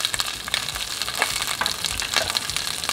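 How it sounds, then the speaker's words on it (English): Asparagus sizzles steadily in olive oil in a pan, a dense, crackling fry with small pops throughout and no talking. "add the asparagus to the pan. You see how they start sizzling"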